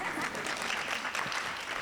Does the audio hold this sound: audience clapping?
yes